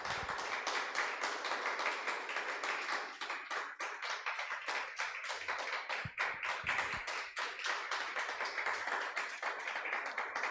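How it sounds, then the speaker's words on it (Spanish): A church congregation claps steadily through a worship service, the dense, continuous applause sounding loud and close from start to finish, with occasional low thumps underneath and no speech. "Dele un fuerte aplauso al Señor."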